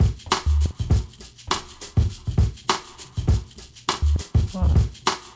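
A simple electronic beat plays on a Pioneer DJ SP-16 sampler, with a sustained single-cycle waveform tone at infinite length layered in, giving repeated punchy kick-and-hit pulses with a droning pitched note between them.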